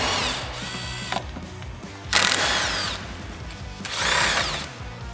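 Power tool with a ratcheting, whirring drive backing out the 10mm headlight bolts on a 2007-2014 Ford F-150, three short close bursts of bright mechanical whine separated by quieter handling noise.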